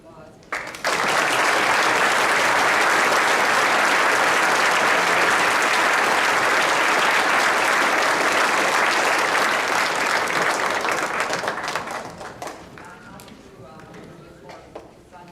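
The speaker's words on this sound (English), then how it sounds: "Another round of applause." An audience at a community Veterans Day school assembly in Bellevue claps in a long, dense, loud burst of applause that lasts around eleven seconds before tapering off, with a few voices stirring at the end.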